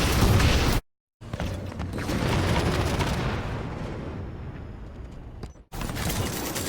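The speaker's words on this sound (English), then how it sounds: "It is a Sentinel beam that shoots Spanker Prime bullets." Sustained energy-weapon fire from a Sentinel Beam in a Halo custom game map, a loud continuous buzzing blast that cuts out briefly, resumes, fades, then returns abruptly.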